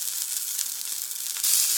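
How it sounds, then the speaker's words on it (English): Food sizzling in hot oil in a pan, a dense steady hiss that jumps louder toward the end as the sizzle intensifies, close and with no voices. "listen to the sizzling sound, which is the sound of the food's moisture and steam reacting with the pan's hot"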